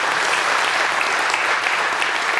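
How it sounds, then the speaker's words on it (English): A loud, dense round of applause from the audience at a school board candidate forum, steady and unbroken throughout. "Let's give them a round of applause one more time"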